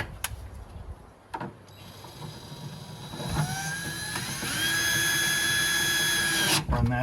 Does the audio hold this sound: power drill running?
yes